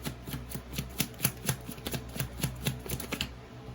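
Tarot cards riffled and tapped in a quick run of crisp, close clicks, about a dozen sharp snaps at an uneven rhythm, quiet and alone.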